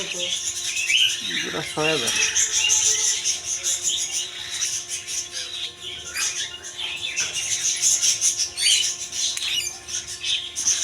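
Hand-fed cockatiel chicks give persistent, fairly loud squawking calls and chirps with a steady tonal hum beneath, and a brief rising call stands out near the start.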